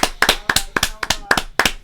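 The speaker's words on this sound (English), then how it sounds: "I think they deserve a good round of applause" A small group gives the team a short round of applause, with several sharp, separated claps in a loose rhythm, close and fairly loud.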